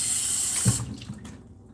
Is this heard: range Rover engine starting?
no